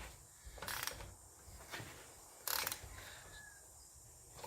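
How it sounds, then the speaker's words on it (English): Tightening the front end of a Big Dog K9 motorcycle to seat the steering bearings: a few faint mechanical clicks and ratcheting turns with two sharper metallic knocks, quiet against a hissing background, no talking. "you will have to put some torque on it because we're tightening the seat"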